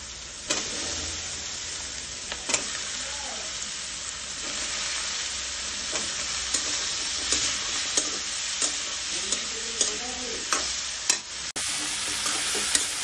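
Young sweet pumpkin pieces fry in a pan with salt and a little turmeric, a steady soft sizzle broken by regular clacks of a spatula stirring and scraping, close and unaccompanied by any voice.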